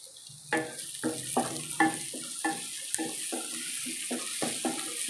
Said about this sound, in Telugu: పచ్చివాసన పోయినంత వరకు ఫ్రై చేసుకోవాలి